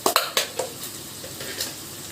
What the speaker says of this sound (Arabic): هنعصج طبعا اللحمة.